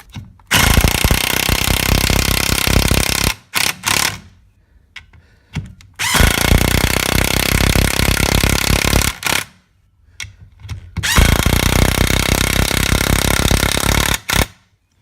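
Porter Cable 20 volt cordless impact wrench hammering on a nut, three long, loud, dense rattling bursts separated by short pauses and a few brief blips, close up with no talking.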